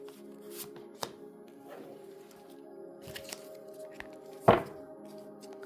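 Tarot cards are shuffled and drawn close up, with soft riffling and sliding, light taps and one sharper snap, faint and intermittent over quiet room tone.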